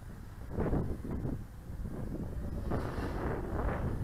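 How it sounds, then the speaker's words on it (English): Steady low wind rumble buffets the microphone outdoors during an FPV racing drone flight test, gusting stronger in waves, with no voices. "The wind is starting to pick up already."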